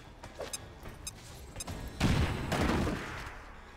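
A grenade blast in XCOM 2 comes as a loud, broad burst about halfway through, after a few lighter sharp shots and clicks, then slowly fades.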